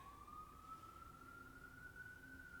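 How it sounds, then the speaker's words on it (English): Ambulance siren outside, a faint, distant, steady tone that slowly rises in pitch over low background hum. "Sorry if you hear that ambulance out there"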